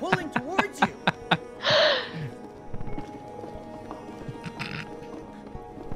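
A short, breathy donkey bray rises once in the video game It Takes Two, amid quick clip-clopping hoof sounds and other game effects, with a voice talking over them.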